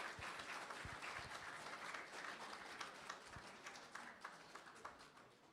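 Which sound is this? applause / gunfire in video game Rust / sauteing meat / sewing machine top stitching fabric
applause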